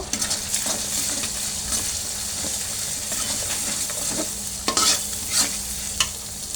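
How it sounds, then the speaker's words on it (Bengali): Chicken with garlic and ginger paste is stirred in a hot pan, a spoon scraping and clinking against the metal over a soft continuous sizzle, with a few sharper knocks near the end. "দিয়ে দেব আদা বাটা। এটা ভালো করে কষাই নেব।"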